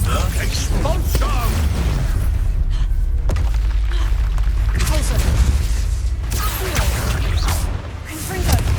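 Expulso spell explosions in Hogwarts Legacy give loud, dense booms and crashes with whooshing bursts. Together they form a sustained, heavy rumble of combat with spell noise, and a voice is heard intermittently.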